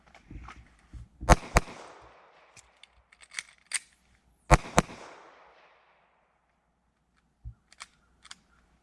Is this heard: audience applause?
no